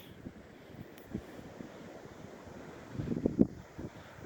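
Gentle waves washing up on Little Beach in Albany, a faint, low wash of surf under steady wind buffeting the microphone, swelling slightly toward the end.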